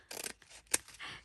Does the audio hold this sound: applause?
no